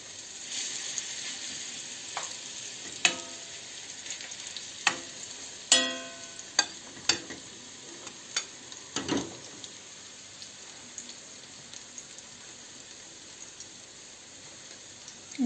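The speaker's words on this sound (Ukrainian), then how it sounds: "будемо смажити на невеликому вогні, на середньому десь такому вогні, щоб прожарилися з двох сторін" Zucchini and meat fritters frying in hot oil hiss quietly in a pan over medium heat, broken by a string of sharp spoon taps and scrapes, busier early on before settling into a gentle sizzle.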